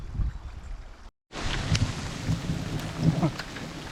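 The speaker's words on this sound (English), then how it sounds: "the thunderstorm's here, and with it is hail" Thunderstorm with rain and hail at a remote prospecting site near an old mining ghost town, a steady dense roar of rain and hail with low rumbling underneath, broken by a brief dropout, continuous and close.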